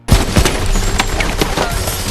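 Rapid gunfire from a John Wick film shootout rattles in a dense, loud burst, sharp cracks overlapping over a cinematic background with a booming low end.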